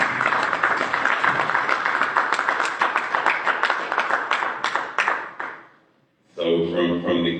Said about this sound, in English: let's give President Emeritus Pat Triggs a round of applause as she comes